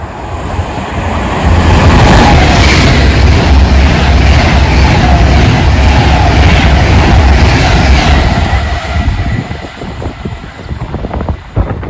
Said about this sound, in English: I think I've got a train.